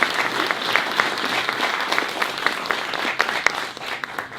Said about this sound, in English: I respond very well to applause